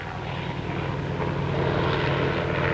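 Propeller aircraft engine drone, a steady broadband roar with low harmonic hum, continuous and fairly loud throughout, from cargo planes operated during the Laotian Civil War.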